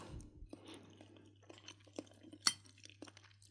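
Thai pumpkin dessert with grated coconut being eaten, heard as faint, close chewing and soft mouth sounds with one sharper clink near the middle, over a low steady hum.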